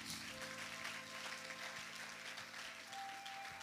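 A church congregation applauds together, a sustained wash of clapping from many hands, fairly distant and even, with a faint hum underneath and no talking.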